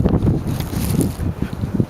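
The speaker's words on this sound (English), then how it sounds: "Listen to the wind." Wind blowing hard during a major snowstorm in the New York area, a loud rumbling roar with gusty buffeting against the microphone, continuous and close throughout.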